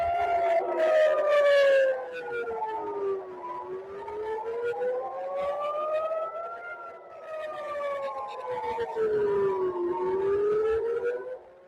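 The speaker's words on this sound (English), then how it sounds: "Israel is being pounded by Iran, sirens sounding over Tel Aviv as a barrage of missiles hit the nation" Air raid sirens wail over Tel Aviv during a missile barrage, several rising and falling tones overlapping in long sweeping cycles, loud and steady throughout with no talk.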